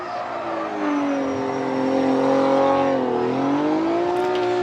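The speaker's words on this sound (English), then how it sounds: "Ryan Tuerck now warming up his tires" A Formula Drift car warms its tires at the Orlando qualifying event, its engine holding a loud, steady high rev with a slight rise and dip in pitch, close and continuous.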